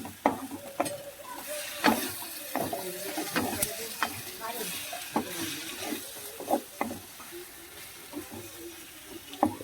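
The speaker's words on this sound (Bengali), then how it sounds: "এবার ডিমগুলো দিয়ে দেওয়া হলো ভালো করে কষিয়ে নিলাম" Eggs frying in a pan and being stirred, with frequent clattering spatula scrapes and taps over a soft, close sizzle.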